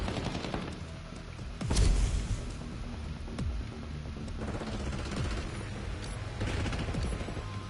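Gunfire in the video game Black Ops 6 cracks out in a few sharp shots, with a louder burst near the start, over a steady background of game noise.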